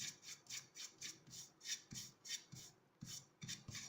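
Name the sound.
dry brushing patina paint on smooth MDF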